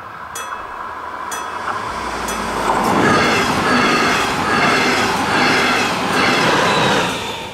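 A passenger train hauled by a class 146 electric locomotive rushes past on the curving Black Forest Railway line, loud and close, with rolling wheel rumble and rhythmic rail clatter.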